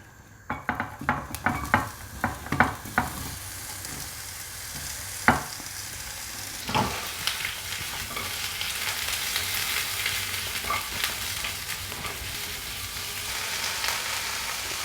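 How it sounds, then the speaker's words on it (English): Onions saute in hot oil in a pan for pub-style burgers, opening with a quick run of spatula clinks and scrapes, then settling into a steady, building sizzle with occasional stirs. "Once the pan is hot, we're gonna add some oil. Just enough to saute the onions."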